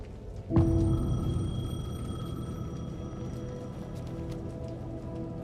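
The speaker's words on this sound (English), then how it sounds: "The payphone was ringing." A payphone rings in the video game Alan Wake 2, a single sharp bell-like ring that starts abruptly and then lingers as a sustained, slowly fading tone over a low background hum.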